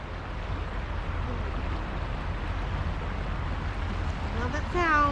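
A flowing river at a campsite near Asheville and Black Mountain, North Carolina, a steady broad wash of rushing water filling the background, with a voice briefly speaking near the end.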